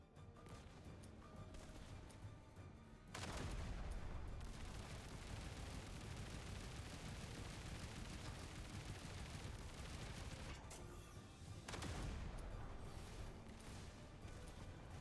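Heavy gunfire in the action game Duet Night Abyss, a dense continuous roar of shots and blasts that surges up sharply after three seconds, dips briefly, then swells again near the end.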